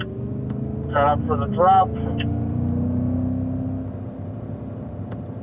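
A Cadillac CTS-V pulls out of a corner on a race track, its engine droning steadily and close throughout while an instructor speaks briefly over it.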